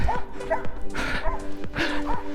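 Dogs barking and yipping in short repeated bursts, close and fairly loud, heard during an outdoor run.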